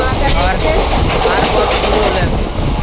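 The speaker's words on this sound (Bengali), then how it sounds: "ট্রেনটা ভালোই ছুটে চলে গেছে" A train runs along the tracks during a trip to Tarapith, a loud, close continuous rumble with wind buffeting, heard from on board with no clear talk over it.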